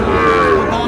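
Cattle, including Sahiwal bull calves, moo loudly and close by at the crowded traditional Raniganj cattle market in Dinajpur, one sustained bellow filling the short moment without talk.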